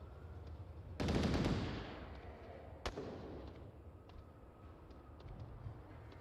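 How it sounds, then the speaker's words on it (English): Light machine gun fire in the Onward VR shooter game erupts as a sudden loud burst that decays over a second or so, followed by a sharp single crack and faint scattered shots in the distance. The overall level is quiet. "Oh, as Atticus just barely dodges the LMG fire from Hippo."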